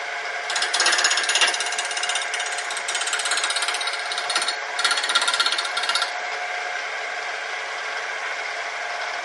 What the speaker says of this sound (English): after a couple passes on the grinder